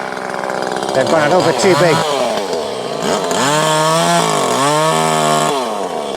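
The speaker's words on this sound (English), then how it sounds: "It's quite a balancing act with a chainsaw." Chainsaw pruning olive trees on a Portugal farm, its engine loud and close, revving up and down in repeated surges with speech over it.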